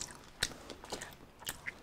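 Crunchy roasted pork skin from a lechon is bitten and chewed up close, with several sharp, crisp crackles spaced through a short run of chewing and no talking.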